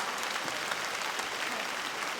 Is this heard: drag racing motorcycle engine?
no